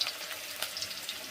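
Onions hit a hot pan and crackle in a brief, close sizzle with a few sharper pops, heard alone without talk.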